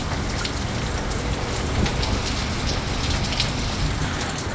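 Heavy rain in the United States pours steadily in a dense, unbroken hiss close by, with scattered drops striking surfaces and no voices.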